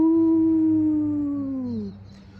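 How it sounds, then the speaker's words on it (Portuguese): A wolf howls once in the wind-blown woods, a long sustained tone that slowly falls in pitch and fades after about two seconds over a low steady rumble. "E de longe, ouvia-se o uivo dos lobos."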